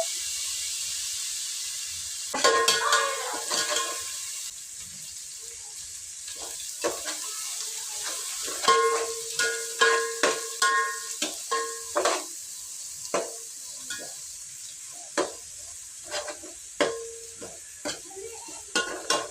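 Steady frying sizzle in a pan with repeated scraping and stirring strokes, the rhythmic stirring growing busier in the second half.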